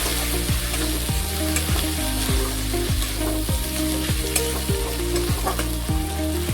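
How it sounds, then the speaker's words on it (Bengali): Spice paste of ginger and garlic with turmeric fries on a low flame in a pan for a cauliflower curry, giving a loud, steady sizzle and crackle, with regular stirring scrapes throughout and no talking. "মশলাগুলোকে খুব ভালোভাবে কষতে থাকবো"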